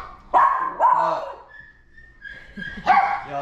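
Puppies barking indoors, in a few short, high yips with whimpers between them, close and fairly loud, over about three seconds.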